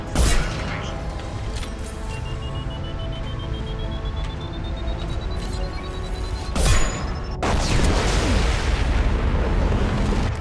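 A video game explosion from Mass Effect 2 rumbles loud and continuous alongside game music and effects, with a sharp burst near the end followed by sustained noisy roar.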